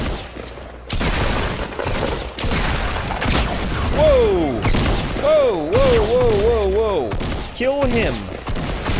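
Bursts of gunfire in a Fortnite Battle Royale match, loud rapid volleys and single shots mixed with game effects and warbling tones, with players talking over much of it.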